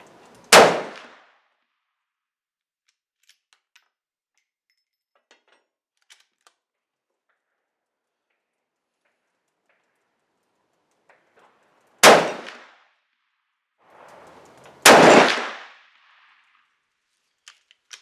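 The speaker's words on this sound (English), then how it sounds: "First 3 rounds will be a control group utilizing the Hornady Black 250 grain FTX factory ammunition." Three loud rifle shots from a Mossberg Patriot .450 Bushmaster firing Hornady Black 250 grain FTX factory ammunition at a 100-yard range, one early and then two spaced a few seconds apart, each a sharp crack with a short decaying tail, silence between.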